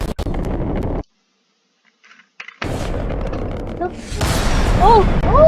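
Rocket launch footage opens with a heavy, loud roar that cuts off abruptly, then after a silent gap bursts back as a broad rumbling blast, with excited voices shouting over it.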